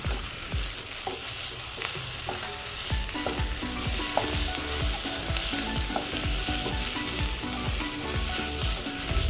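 Chopped tomatoes fry with mushroom masala in a pan while being stirred, a continuous close sizzle broken by repeated scraping and clinking of the spoon against the pan, with no talk.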